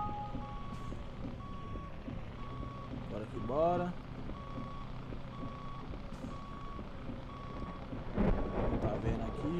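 Truck reversing beeps in the video game Grand Truck Simulator 2, a steady, regular series of electronic beeps over engine rumble, with a voice speaking briefly partway through.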